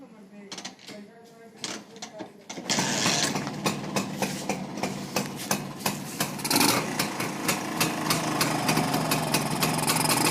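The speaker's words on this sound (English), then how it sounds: "Now let's start the bike." Rajdoot 175 motorcycle with a side cover removed: a few kick clicks and clatters, then the single-cylinder two-stroke engine catches and settles into a loud, close, steady putter at idle.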